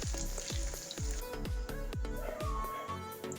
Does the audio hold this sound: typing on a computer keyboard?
no